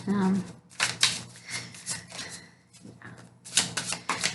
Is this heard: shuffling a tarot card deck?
yes